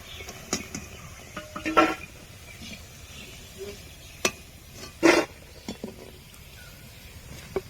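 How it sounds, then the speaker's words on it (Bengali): Crispy deep-fried soybean chunks are tossed and lifted in a pan. Sharp, dry clicks and rattling clatters come in scattered bursts over a low, faint sizzle, close up. "শব্দে বুঝতে পারছেন সয়াবিনগুলো কতটা মুচমুচে হয়েছে"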